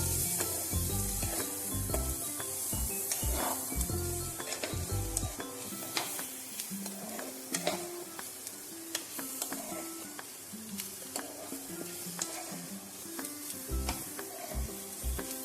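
Garlic mushrooms sizzle in a pan while being stirred, with a dense, continuous frying hiss under frequent scraping and clinking of a utensil against the pan, close up.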